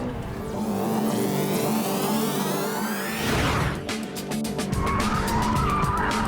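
A medium-sized hot hatch corners hard at the Cadwell Park circuit. Its engine drones loudly and steadily while the tyres squeal and skid through the bend, and the engine note shifts as the car powers out.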